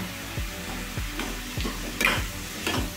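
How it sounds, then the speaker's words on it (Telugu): Onions frying in a pan with salt and turmeric make a soft sizzle, and a spoon scrapes against the pan in a regular rhythm every half second or so, with a couple of sharper clicks. "కొంచెం మెత్తబడిన దాకా వేయించుకుందామండి ఆనియన్స్ని"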